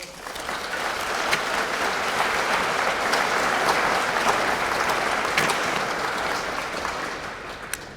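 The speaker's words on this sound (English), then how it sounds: "A round of applause for him." Sustained audience applause fills a hall at a school awards and cresting ceremony, an even, dense roar of many hands clapping at constant strength for the whole stretch.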